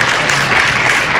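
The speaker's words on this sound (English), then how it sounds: "we can applaud that if you want" Short burst of steady applause from a gathered crowd at a memorial service, filling the space evenly without any voices on top.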